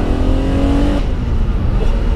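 A BMW M1 with a dogleg gearbox revs hard through a downshift, its loud engine note close and dominant, pitch dropping briefly as the gear changes, with no talking.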